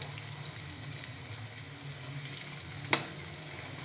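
Cottage cheese and fenugreek leaf fritters, just turned over, fry in oil with a soft continuous sizzle and a single sharp clink near the end, no voices.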